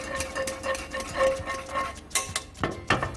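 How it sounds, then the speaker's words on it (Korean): Pork belly stir-fried quickly in bubbling caramelized sugar, with scattered clicks and scrapes of a utensil against the pan and a soft sizzle underneath, a few sharper clatters near the end. "색이 변하면 삼겹살을 넣고 재빨리 볶아주세요"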